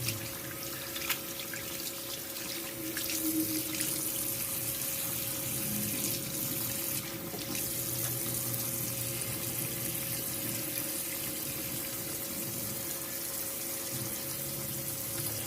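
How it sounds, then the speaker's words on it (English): Running tap water splashing steadily into a sink while hands are washed with antibacterial soap before home nocturnal dialysis, a continuous near hiss with small splashes and no talk. "the first thing I'm going to do is wash the site with some antibacterial soap. I wash my hands also, of course."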